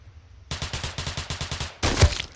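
Gamepass weapons firing in a Roblox gun test, a steady rhythmic string of about ten evenly spaced gunshots, followed by a louder, heavier blast.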